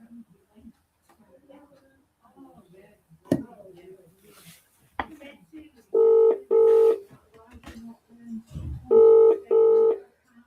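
Telephone dialing tones as someone calls to wish people happy Christmas: quiet handling noises and murmured speech, then two pairs of short, loud keypad beeps separated by a brief pause.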